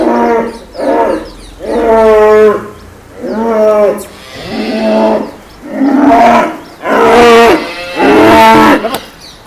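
Jersey cattle on a dairy farm giving loud, drawn-out moos one after another, about seven long calls close by with short pauses between them, alone without talk.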